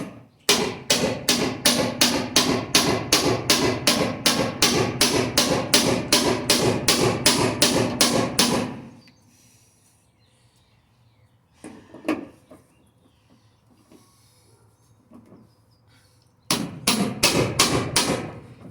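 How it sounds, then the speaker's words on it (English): A Craftsman manual impact driver is struck with a hammer in a rapid, even run of loud metallic blows for several seconds, then a quiet pause with a few faint knocks before another burst of fast strikes. "It's an amazing tool, this impact driver."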